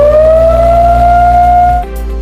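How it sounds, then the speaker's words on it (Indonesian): A loud, steady evacuation alarm siren wails on a single sustained tone close to the microphone, then cuts off abruptly near the end. "apabila Anda mendengar suara sirine"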